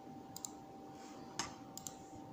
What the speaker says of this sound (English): This button doesn't have any spring tensioning like Logitech G102, but it's still quite clicky.